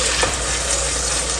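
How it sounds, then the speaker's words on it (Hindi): Ginger garlic paste being stirred into a masala for white chana biryani, a loud, dense sizzle that fills the brief moment without pause. "अदरक लहसुन का पेस्ट डालकर इसको अच्छी तरह मिक्स करेंगे"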